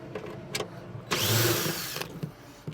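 A power tool runs for about a second, loosening the bolts that hold a step onto a van, close and fairly loud after some quieter clicks and handling noises.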